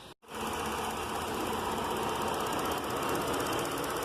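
A 2016 Chevrolet Impala engine with an EVAP system fault idles steadily with a fast, even mechanical clatter, close by and constant after a brief gap at the start.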